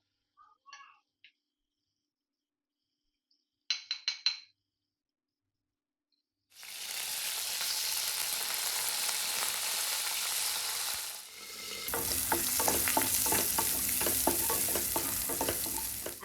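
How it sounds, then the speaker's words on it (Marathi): Horse gram flour being stirred into a hot onion and tomato tempering: a few faint clinks at first, then a loud, steady sizzle and frying hiss that swells again partway through, with no talking. "आता ही पिठी घालून घेऊया जी घालते वेळी आधी ढवळून घ्यायची"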